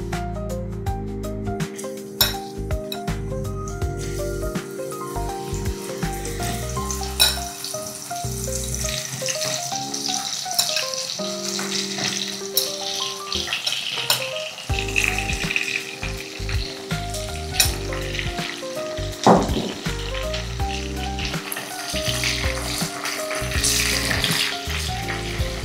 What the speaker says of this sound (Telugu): ఇది కొంచెం బాగా బ్రౌన్గా వచ్చేంత వరకు ఫ్రై చేసుకోవాలి.